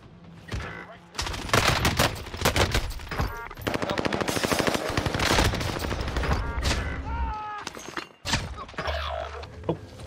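FARA 83 assault rifle fire in the battle royale game Warzone, long loud bursts of rapid automatic shots with booming impacts, a short break, then more fire, with a voice talking faintly underneath.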